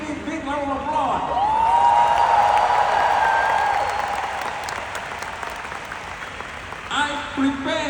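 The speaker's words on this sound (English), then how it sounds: "you can give me a big round of applause" An audience gives a big round of loud, sustained applause at a business talk, swelling and then fading, with a voice speaking over it throughout.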